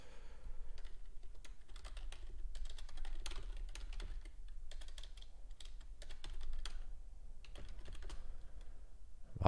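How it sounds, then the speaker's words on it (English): Quiet bursts of computer keyboard typing, clicks coming in uneven runs with brief pauses, close by and without any talking. "If you do hear typing, that's just me making alerts"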